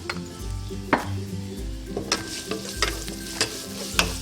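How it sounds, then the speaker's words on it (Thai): Garlic frying in a little hot oil in a pan for a Thai sweet-and-sour stir-fry, a steady close sizzle broken by several sharp stirring clacks of a utensil against the pan, with no talking. "ขั้นตอนแรกก็ตั้งกระทะนะคะเติมน้ำมันลงไปนิดนึง พอน้ำมันร้อนแล้วก็ตามด้วยกระเทียมของเราค่ะ"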